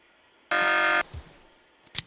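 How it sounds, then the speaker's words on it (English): A loud, harsh electronic buzzer blares for about half a second in the video game The Pandora Directive, followed by a couple of faint thumps and a brief high click. "Sounds like I got that alarm turned off."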